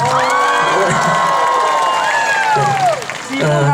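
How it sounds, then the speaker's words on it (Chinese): A crowd at an outdoor concert in Yonghe's Renai Park, Taiwan, applauds and cheers loudly for a singer, with high screams and whoops rising over sustained clapping. "给自己一个掌声加尖叫声，好不好？"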